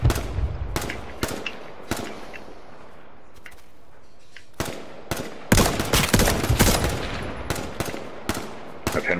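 Gunfire in the H1Z1 game on PlayStation 4 cracks out in loud, sharp bursts, single shots and quick strings separated by short quiet gaps, close and dominant with no talking.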